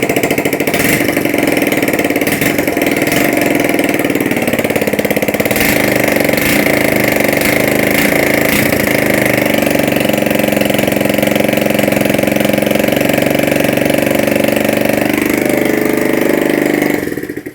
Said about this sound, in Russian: сегодня буду совершать первый запуск двигателя после капиталки